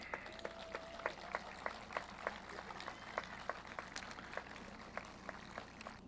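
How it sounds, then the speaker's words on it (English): Parents at a high school graduation ceremony clap for their students, a fairly faint, rhythmic applause with regular distinct claps standing out over a steady low background hum. "Parents, give your students a round of applause."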